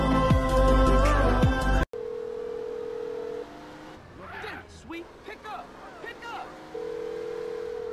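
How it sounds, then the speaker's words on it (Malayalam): In GTA San Andreas, a home phone call goes unanswered: a loud electronic tone cuts off, then quieter ringback tones repeat at intervals while in-game voices talk in the background. "വീട്ടിന്റെ ഫോൺ വിളിച്ചിട്ട് വീട്ടിൽ ഫോൺ എടുക്കണില്ല."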